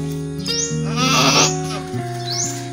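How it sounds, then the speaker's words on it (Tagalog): A pregnant goat gives a couple of close, wavering bleats over a steady low background hum, with a bright whistly sound at the start and the end. "Nung nabili ko po ang kambing na ito ay buntis na po pala."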